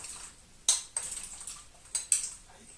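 Pieces of potato drop one by one into a metal soup pot with meat simmering, about five sharp, close clinks and clunks spaced irregularly over a quiet background.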